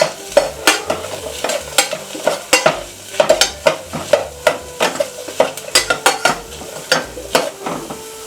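Beans and carrots sautéing in a pan for corn prawn soup, with a soft sizzle under rhythmic, repeated clanks and scrapes of a spoon stirring the vegetables close by.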